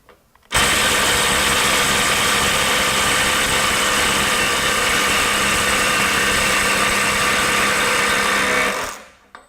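A DeWalt DCF902 subcompact impact wrench set to 75 foot-pounds hammers continuously for about eight seconds while breaking a bolt free, a steady loud rattling whir that cuts off sharply.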